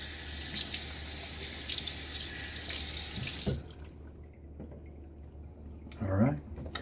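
Tap water gushes steadily into a sink for a full rinse during a shave with a Gillette Slim safety razor, then cuts off abruptly, leaving quiet room tone and a brief splash.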